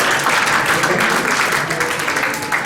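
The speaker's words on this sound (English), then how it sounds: "So big round of applause for yourself." An audience applauds a certificate recipient at a live-streamed event, a dense, loud, continuous burst of clapping from many hands lasting throughout.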